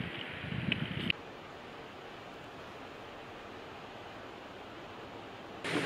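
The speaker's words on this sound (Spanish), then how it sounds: "hay agua fuerte, porque en realidad agua hay por todos lados, cae agua por todas las paredes, pero aquí se oye bastante fuerte." Strong rushing water from waterfalls pouring down rock walls on a hiking trail in Madeira, a steady, dense roar that runs unbroken throughout, with brief louder handling noise at the start and end.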